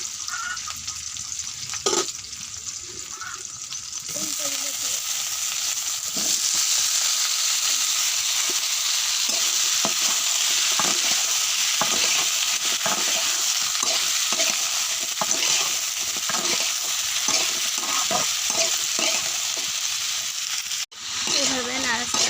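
Food frying in a pan as onion-based spicy dish is prepared, with a steady loud sizzle and repeated scraping stirs throughout, briefly dropping near the end.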